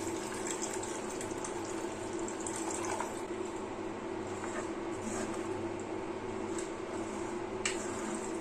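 Water streams steadily into a pan of Kerala-style fish curry, a continuous close pouring rush with a few small splashes.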